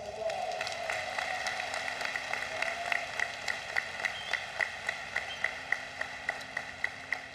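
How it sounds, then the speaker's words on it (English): Applause at the University of Maryland 2024 commencement ceremony rises from a large audience and settles into sparse, rhythmic claps that fade, over a steady background hum. "Give them all a round of applause."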